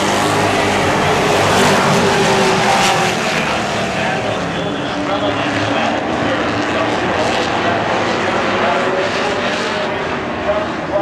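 NASCAR stock cars race at Seekonk Speedway, their engines making a loud, dense, continuous roar that fills the whole stretch, with an announcer talking over it.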